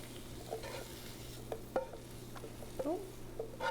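Green peppers and onions hit a hot pan for a black bean dish, giving a soft steady sizzle with a few light stirring clicks and taps, fairly quiet and close.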